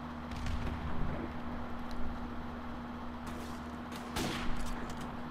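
Scattered gunshots from Call of Duty: Modern Warfare Remastered, with M4 and M16 rifles, crack out as a few sharp bursts over a steady low game hum, medium loud, with no talking.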